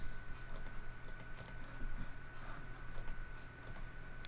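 Quiet clicking at a computer, sparse sharp taps of a mouse or keys in bursts over a faint steady hum, with no voices.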